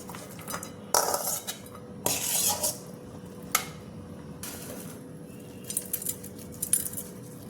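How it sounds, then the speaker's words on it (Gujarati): Kolkata-style churmur chaat ingredients are tossed together in a bowl, with a spoon clinking and scraping in scattered bursts and pauses, close up and with no talking. "આ બધું મિક્સ કરીને આપણે સર્વ કરી લેશું."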